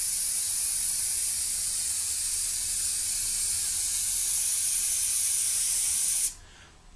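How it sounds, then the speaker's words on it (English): Aerosol Irox paraffin ski wax sprayed from a can onto a ski, a steady, loud continuous hiss lasting about six seconds before cutting off abruptly, leaving faint room noise. "hold the can about 1 foot from the ski when you're spraying it"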